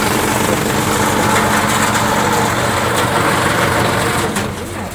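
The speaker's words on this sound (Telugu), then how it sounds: "మొత్తం చేను ట్రాక్టర్ని తీసుకెళ్ళి ఆడ పెట్టేసి ఇలాగ స్టార్ట్ చేస్తారు." A tractor engine runs steadily and loudly in an open farm field, with a continuous close droning rumble that eases slightly at the very end.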